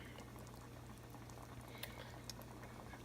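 A pot of ham hock stock bubbles at a steady boil with faint liquid patter and a low hum, no voices.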